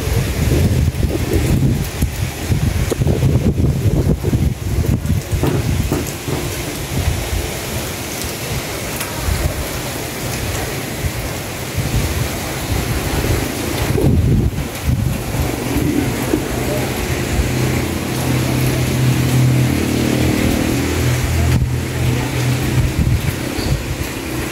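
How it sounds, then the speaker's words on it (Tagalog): Strong wind and heavy rain roar steadily throughout, with gusts buffeting the microphone and low rumbling swells, loud and close with no pauses. "Huwag naman sanang lumakas itong hangin at ulan po."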